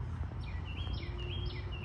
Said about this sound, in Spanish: el sonido de los pájaros tan lindo